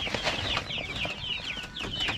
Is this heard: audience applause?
no